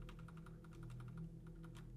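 Quick, evenly spaced clicks like keyboard typing in the horror game Phasmophobia, coming from streetlamps. The clicking is faint and steady over a low hum.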